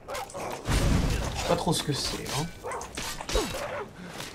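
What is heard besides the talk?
zombie dog barking in Skyrim video game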